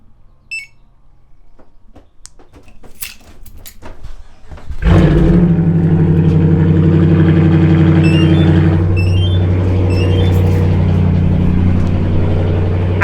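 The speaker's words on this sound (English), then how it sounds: "let's start up the Challenger" A Dodge Challenger, nearby and very loud: a few clicks and faint sounds, then the engine fires with a sudden roar around five seconds in and settles into a heavy, throbbing idle with slight revving.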